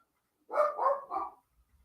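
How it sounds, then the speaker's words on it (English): Dog barking indoors, a short quick burst of three muffled barks heard from a moderate distance, with no talking. "There's nothing out there to be barking at."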